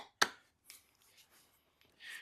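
A carving knife cutting into wood during hand carving, with one sharp close chop followed by a few softer scraping cuts and near silence between them.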